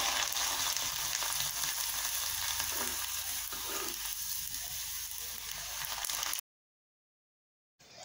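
Dried string hoppers frying in hot oil in a pan, a steady, loud, dense sizzle close up that runs unbroken for several seconds before cutting off, with no voices.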